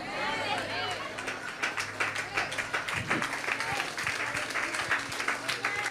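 An audience at a Tamil Christian church sermon claps, a dense patter of applause running steadily for several seconds.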